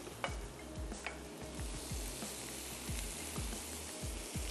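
Shrimp cooking over a high flame in a pan, a steady faint sizzle with regular low knocks and scrapes from the pan, no voices.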